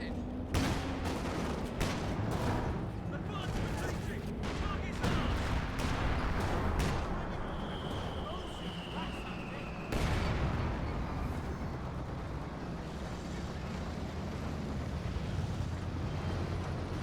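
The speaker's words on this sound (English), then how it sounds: "Also here a shot from the 6-pounder." 6-pounder anti-tank gun shots in a World War II tank battle video game, with loud booming reports and a dense spread of other gunfire and explosions under steady wind-like noise.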